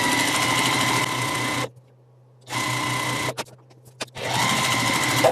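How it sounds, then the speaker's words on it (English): Sewing machine stitching along a drawn line on fabric squares for half-square triangles: a steady, close mechanical whir runs in bursts, stops abruptly for pauses with faint handling clicks, then starts stitching again. "I'm going to flip this over and then sew down the other side of that line"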